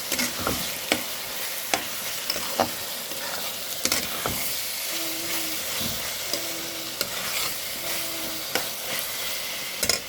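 Garlic paste frying in a pan, a steady broadband sizzle with repeated sharp scrapes and knocks of a spatula stirring it, continuous and fairly close, no voices.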